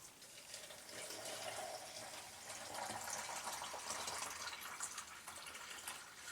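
Cold water is poured into a French press coffee maker, a steady, faint gushing trickle that runs continuously for several seconds with no talking.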